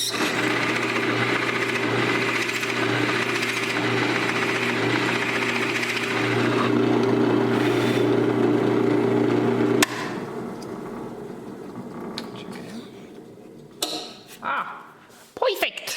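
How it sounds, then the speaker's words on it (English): A power drill bores into wood for a homemade foot stool, a steady loud whine that runs for about ten seconds and then cuts off, followed by quieter scattered handling knocks. "and we'll just start drilling away."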